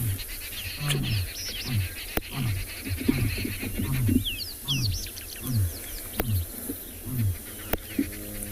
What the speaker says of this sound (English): did you hear that roar?